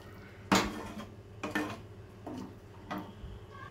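A metal lid clanks down onto a cooking pot of potatoes for a potato cauliflower dish, with three separate clattering knocks spaced about a second apart, close and fairly sharp against quiet kitchen background.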